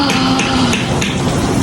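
Heavy rain pours outside in Karachi as a loud, dense, steady hiss of falling water with a few sharper drip or tap accents, close and continuous with no one talking.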